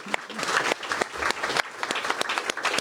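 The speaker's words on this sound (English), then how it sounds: "let's just give them all a round of applause." A hall audience at a patient celebration event bursts into brisk, full applause, many hands clapping close and loud in a short, continuous burst.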